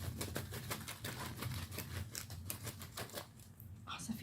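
Tarot cards being shuffled by hand, a steady papery riffling and slapping that runs for about four seconds under a faint background voice.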